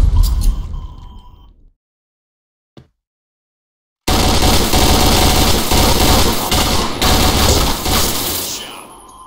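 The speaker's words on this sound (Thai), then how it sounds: "ยิงอย่างรัวเลยดูดิ" Rapid machine gun fire in a video game, a loud sustained burst of dense automatic shots after a brief near-silent gap with one faint click.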